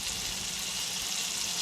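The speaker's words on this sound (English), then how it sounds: "Everybody loves to see a pan fry." Green tomatoes sizzle and crackle steadily in a hot cast iron pan, a constant dense frying hiss with no voices.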